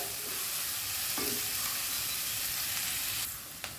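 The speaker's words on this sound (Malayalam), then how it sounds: "ഹൈ ഫ്ലെയിമിൽ. എന്നിട്ട് നമ്മുടെ ഈ കാബേജ് ഒന്ന് തട്ടിക്കൊടുക്കുക." Cabbage fries in a pan over a high flame, giving a loud, continuous hiss of sizzling close by, steady throughout with a faint clink near the end.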